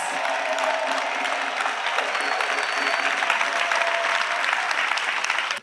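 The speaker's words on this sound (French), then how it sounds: "Clapping for Jesus." An audience at a national Bible camp applauds in praise of Jesus, a steady, dense wash of clapping that holds evenly before cutting off abruptly.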